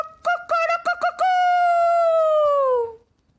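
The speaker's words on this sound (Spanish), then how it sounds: "al salir el sol, Gallo se despertó y cantó" A rooster crows up close and loud, a few choppy opening notes leading into one long sustained call that fades out, with no other sounds around it.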